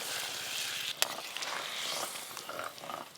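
Stuffed pointed gourds (potol dorma) simmering in gravy in a wok, a steady close sizzle and bubbling fry with one brief sharp clink, no talking.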